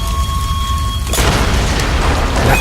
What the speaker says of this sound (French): Et là, explosion.